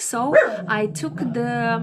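A dog barks and yips repeatedly at close range, its sharp calls overlapping a person talking.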